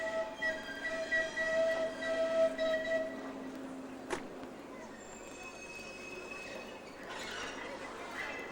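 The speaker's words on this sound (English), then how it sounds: "Neil's going to take the freight train on the main line here" A diesel-hauled freight train runs along the Keighley & Worth Valley heritage railway main line, a steady rumbling roll with wheel squeal and a sharp clank partway, fading toward the end.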